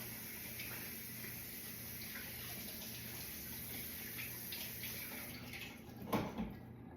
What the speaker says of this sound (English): Rinse these off.